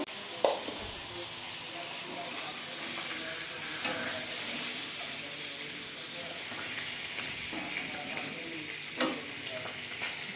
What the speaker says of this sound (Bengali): আলু ভাজা হয়ে গেল,